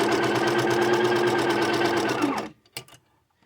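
A sewing machine stitches a seam at a quilting-friendly stitch length, a fast, even mechanical rattle running loud and close for over two seconds before stopping, followed by a couple of faint clicks.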